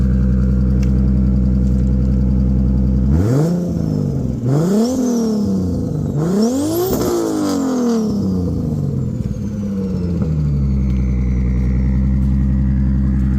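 Nissan Silvia S13 with an RB25DET engine idles with a deep exhaust burble, is blipped through three sharp revs that climb and fall, then settles back to a steady, close, loud idle.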